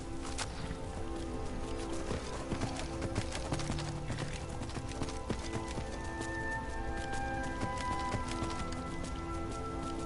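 Hooves of a horse ridden in Skyrim clip-clop in a steady, brisk rhythm under faint game ambience, low in level and continuous throughout.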